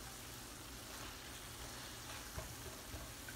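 Mixed vegetables sautéing in shrimp paste in a pan, giving a soft, steady sizzle at low volume with a couple of faint stirring clicks near the end.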